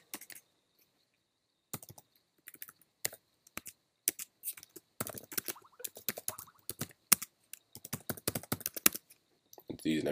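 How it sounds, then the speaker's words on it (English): Computer keyboard keys tapped in bursts while an email address is typed into a Gmail account settings form, crisp close clicks with short pauses between groups and a brief louder sound at the end. "Type in the email address again."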